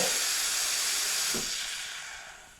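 A Sanremo Cube espresso machine purges with a loud, breathy steam hiss that holds steady and then tapers off toward the end.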